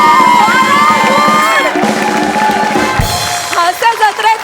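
A studio audience at a Marathi comedy show erupts in loud cheering, whoops and shouts, with music playing and a jingle toward the end, close and energetic throughout.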